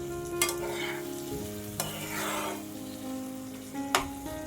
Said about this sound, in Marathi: आता हे हलक्या हाताने चांगलं परतून घ्यायचं